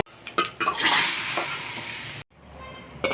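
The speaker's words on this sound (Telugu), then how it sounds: "ఫస్ట్ ఆయిల్ పోసేసుకున్నానండి ఫస్ట్ కరివేపాకు పచ్చిమిరపకాయలు వేసేసాను సో ఆనియన్స్ కూడా వేసేసుకున్నాము" Onions, curry leaves and green chilies frying in hot oil, a loud close sizzle with scraping stirring strokes that cuts off abruptly and then starts up again briefly.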